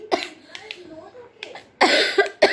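A few sharp coughs from a lingering illness break up a person's speech, with a harsher burst of coughing near the end.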